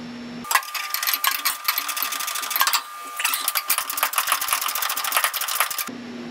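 Quick ratcheting clicks from a wrench run in dense rapid bursts, with a short pause midway, as bolts are threaded onto a Firebird sway bar in a garage.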